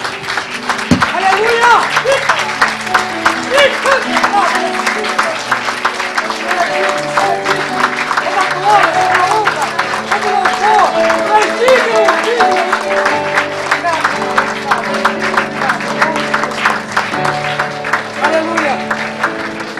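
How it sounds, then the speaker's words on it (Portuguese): A church congregation claps steadily throughout, with voices and music-like tones mixed in under the applause. "Dê um aplauso bem gostoso ao Senhor Jesus."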